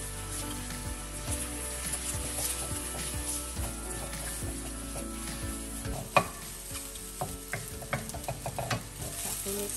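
Egg is scrambled without oil in a non-stick wok while making pad thai, giving a steady sizzle under repeated spatula taps and scrapes, with one sharper knock near the end and no speech.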